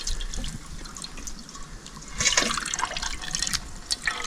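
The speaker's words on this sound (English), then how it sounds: "So the coconut milk is going in now." Coconut milk is poured into a cooking pot over an outdoor fire for a traditional Jamaican dish, making soft, uneven liquid splashing and trickling that grows louder midway through, with a few brief drips.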